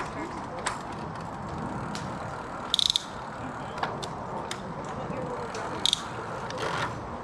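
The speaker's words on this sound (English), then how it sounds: "Now I've got to put myself in a climbing gear." Bicycle drivetrain shifting into a low climbing gear, with repeated mechanical clicks and ratcheting over a continuous rolling and wind noise, along with brief sharp click bursts.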